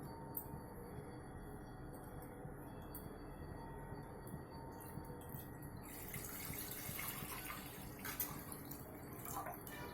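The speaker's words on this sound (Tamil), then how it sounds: "இப்போ இதில் ஒரு லிட்டர் கணக்குக்கு நம்ம தண்ணி விட்டுக்குவோம்" Water streams steadily into a metal pressure cooker, about one litre, a continuous splashing pour that grows brighter and louder partway through.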